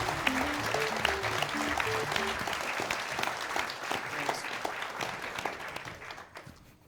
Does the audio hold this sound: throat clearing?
no